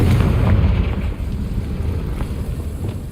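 The Confringo fire spell blasts in the video game Hogwarts Legacy with a deep, rumbling explosion that hits loudly at once and then rolls and crackles, slowly fading over about three seconds, with no voices.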